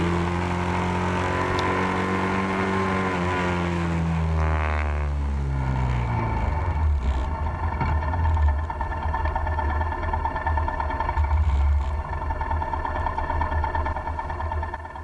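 A motorbike climbs the winding Monkey Mountain road in Vietnam, engine droning steadily up close with rising and falling pitch through gear changes, and wind rush building toward the end.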